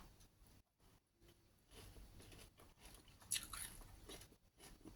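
Fresh lemongrass herb is chewed close up, with faint, soft crunching and moist biting sounds repeating unevenly in a quiet room.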